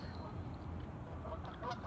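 Geese honk near a pond in spring, a few short nasal calls sounding at moderate distance over a steady outdoor background.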